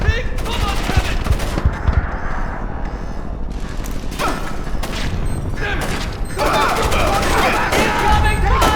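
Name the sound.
gunfire in the video game Splinter Cell: Chaos Theory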